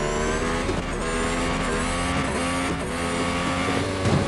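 A race car engine in the mobile racing game Real Racing 3 roars loud and continuous, its pitch climbing and falling through gear changes with a faint tire squeal, and no other sounds.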